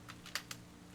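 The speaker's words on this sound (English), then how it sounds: "I have multiple keyboards available apparently on the Wii U gamepad." On-screen keyboard input on a Wii U gamepad in Zelda: Wind Waker, heard as three soft tapping clicks at an uneven rhythm over a steady low hum, with no talking.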